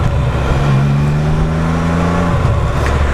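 A Can-Am Spyder F3T three-wheeled motorcycle engine pulls loud and close in first gear, its steady drone climbing in pitch for about two seconds before dropping sharply as the revs fall.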